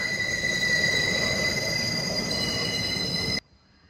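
A train running on a railroad, used as a film transition sound effect: steady wheel rumble with high squealing tones, loud and close, cutting off abruptly near the end.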